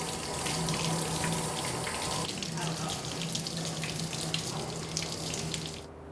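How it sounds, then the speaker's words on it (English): Tap water runs steadily and loudly into a sink while a dive mask is rinsed under the stream, a continuous splashing rush that stops abruptly at the end. "I'm going to go ahead and rinse my mask as well"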